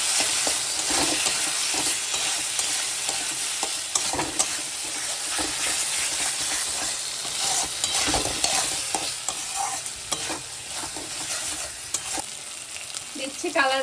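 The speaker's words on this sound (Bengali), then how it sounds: "এবার দিচ্ছি সাত মতো লবণ ভালো করে কষিয়ে নিই" Chicken curry seasoned with salt sizzles steadily in a pan while a spoon scrapes and stirs it in irregular strokes, a close, continuous frying hiss with no talking.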